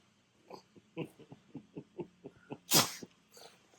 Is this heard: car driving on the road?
no